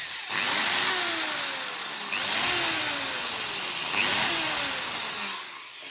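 A cordless screwdriver whirs in repeated bursts while unscrewing parts of a homemade grow lamp, its motor pitch sweeping down with each pull of the trigger, close and fairly loud.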